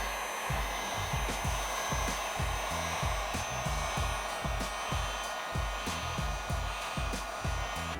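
A heat gun or hot-air blower runs steadily while warming paint protection film on a Toyota Tacoma headlight, a continuous close airy whoosh with a rhythmic low thumping throughout.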